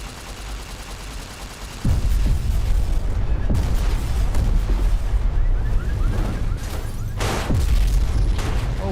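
Rocket explosions in Fallout New Vegas: several heavy booms, one near two seconds, another around three and a half, and a big one near seven and a half, over constant loud rumbling and crackle. No speech is heard.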